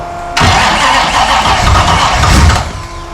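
A Ford Falcon's engine cranks and catches on its first start after two years sitting, firing loudly up close into a rough idle for a couple of seconds before dropping away.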